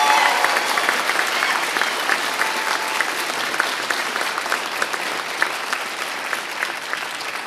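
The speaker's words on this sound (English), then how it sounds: "Ladies and gentlemen, how about a big round of applause?" Sustained crowd applause at a fire academy recruit graduation ceremony, dense steady clapping from a large audience that continues evenly throughout.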